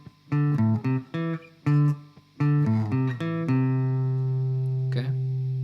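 Electric guitar plays the riff moved up to D, the first part hanging on E before the second half comes back down: bouncy plucked phrases, then a held ringing note, close and clear, a brief noise near the end.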